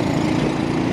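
Classic Velocette Venom Clubman 500 single-cylinder motorcycle engine while riding, a loud, steady, rapid-firing low thump with a continuous mechanical drone, close and alone.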